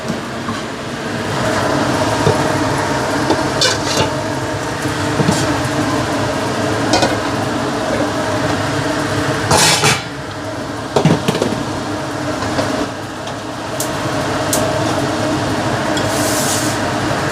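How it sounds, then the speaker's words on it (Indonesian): Spiced chicken fries in a hot pan, a continuous close sizzle with scattered sharp pops and crackles breaking through the steady hiss, and no talking. "Sekarang goreng ayamnya"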